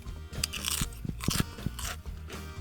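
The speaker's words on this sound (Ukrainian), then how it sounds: "вони хрумткіші за Pringles" Kraks potato chips crunch sharply as they are bitten and chewed up close, giving several crisp, crackling bites in quick succession.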